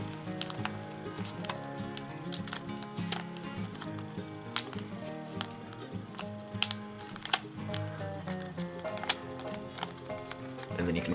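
Paper being folded and creased for an origami baby chick head, heard as quiet, close crinkles, taps and soft rustling scrapes in an irregular run.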